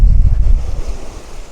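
Strong coastal wind roars and buffets against a steady rush of surf and waves along a Canary Islands shore with dunes and hotels, loud and continuous with no voices.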